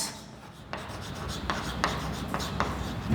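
Pen or chalk writing on a board or paper during a matrix trace lesson, a string of short scratchy strokes at a steady rhythm, close and clear.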